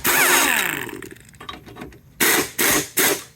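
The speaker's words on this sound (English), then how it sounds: "We'll get the impact, get these taken off." An impact wrench removes 10mm bolts from the air dam of an old body style Chevy truck: a whirring spin-up followed by three short, loud hammering bursts close by.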